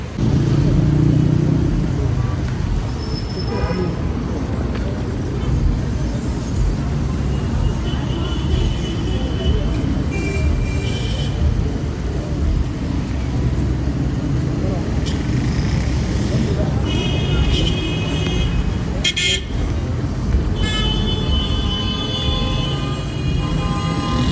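Steady roar of heavy street traffic in Banha, Egypt, with engines and passing vehicles, occasional horn toots, and a voice talking over the noise.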